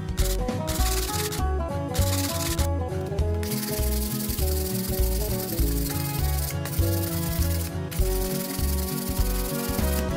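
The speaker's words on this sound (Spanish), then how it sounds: "Para pulir los bordes y darle mejor forma al corte, voy a utilizar una lija del número 120." The edge of a copper circuit board being sanded by hand with 120 grit sandpaper: a loud, close, rhythmic scraping that repeats steadily in back-and-forth strokes.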